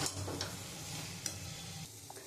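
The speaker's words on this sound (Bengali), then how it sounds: "এবার আমি ভালো করে একটু নাড়বো।" Banana flower and chickpea curry with garam masala sizzling in a pan as it is stirred, a steady close frying hiss with soft scrapes and taps of the spoon, no talking.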